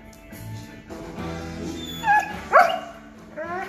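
Two dogs scuffling with yips, whimpers and sharp barks, building into two louder bursts near the end, close and alone without talk.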